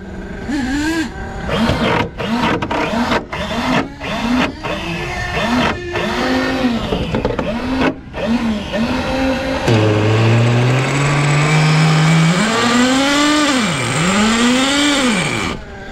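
A Traxxas Nitro Sport RC car with an upgraded 3.3 nitro engine, started with a starter box, runs loud and close. It revs in rapid repeated bursts, then holds a rising high whine before dipping and climbing again. No one speaks.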